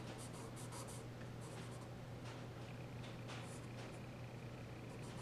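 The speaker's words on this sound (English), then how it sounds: "I have this medium charcoal pencil. I'm going to come in here and define some little details" Medium charcoal pencil scratching fine details onto paper for a mandarin orange still life, a steady close rasp with short bursts of strokes and taps, over a constant low hum.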